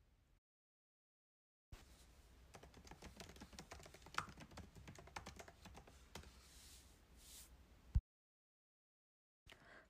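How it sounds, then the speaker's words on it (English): Rapid, steady clicking of fingers typing on a computer keyboard, close and fairly quiet, running for about six seconds between stretches of silence. "Let's type in how to stream on Twitch."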